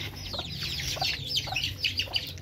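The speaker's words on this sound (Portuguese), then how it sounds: "Ó a Jezebel e os pintinhos dela, gente" A hen with her chicks, clucking close by: soft, repeated clucks mixed with high, thin chick peeps in a quick, uneven rhythm over a low steady background hum.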